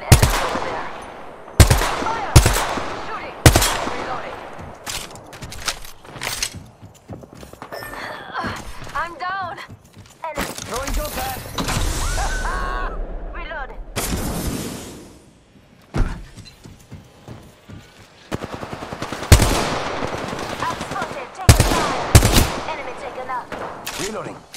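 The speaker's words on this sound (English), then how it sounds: "Fire! Shooting!" Gunfire from the video game Apex comes in loud, sharp bursts of rapid shots alternating with single cracks and quieter gaps, mixed with game effects, while a voice talks intermittently between volleys.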